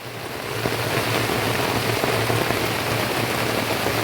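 Steady rain falls on a surface as a dense, even hiss, close and continuous throughout, with a low hum underneath and no talking.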